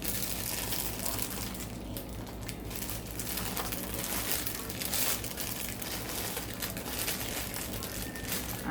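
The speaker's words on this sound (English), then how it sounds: "Now let's bust this cake mix open and just dump that in." Steady crinkling of a cake mix bag being handled and opened in a home kitchen while making a fruit salad poke cake, a continuous close rustle with no voices.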